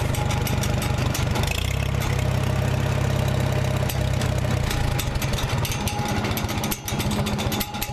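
An old engine fitted with an H carburetor idles with a steady low chugging, then drops to a slower, uneven idle with loose knocking pulses, close and loud throughout.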